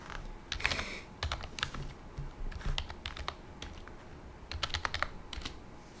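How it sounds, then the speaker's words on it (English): Rapid keystrokes on a computer keyboard, clustered in quick bursts with brief pauses, close and fairly crisp against a quiet background. "Oh, I'm typing on the wrong keyboard this time."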